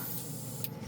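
A Mr. Hobby GSI Creos PS-771 airbrush blasts thinner out in one steady, loud spray hiss that cuts off abruptly near the end.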